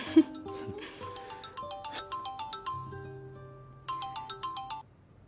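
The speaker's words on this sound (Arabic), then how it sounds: "وصوت التليفون كمان" A phone ringtone plays a repeating electronic melody in short bursts, then pauses and starts again, fairly clear with no speech over it.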